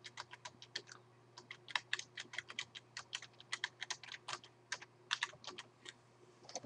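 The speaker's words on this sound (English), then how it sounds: "type in the URL of your website" Rapid, steady keystrokes on a computer keyboard as a website URL is typed, close and clear with an uneven rhythm and no voices.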